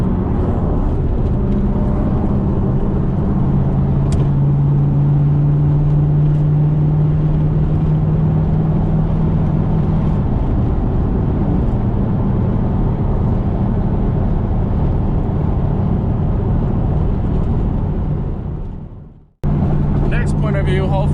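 Pontiac Trans Am WS6 Formula cruising in highway traffic, a steady low engine and road drone heard from inside the car, briefly cutting out near the end before resuming.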